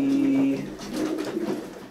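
Racing pigeons coo in a loft in low, throaty, repeated calls close by, with a faint steady hum in the background.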